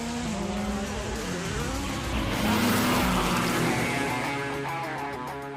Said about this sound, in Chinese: 享受冰雪赛车的乐趣